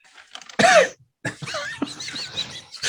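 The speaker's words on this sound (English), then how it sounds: "I got to get the cough sound effect of the guy in the background that's going." A man coughs somewhere in the background, a sharp burst followed by several raspy, throat-clearing rattles after a brief silence, moderately loud and clear.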